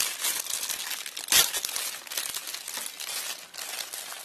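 Plastic packaging crinkles and rustles as aftermarket front and rear drift-kit bumpers for an Aoshima 1/24 Nissan Cefiro A31 model kit are unwrapped, a close, continuous crackle with one sharper crunch partway through.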